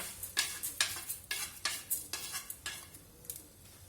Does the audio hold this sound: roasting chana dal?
yes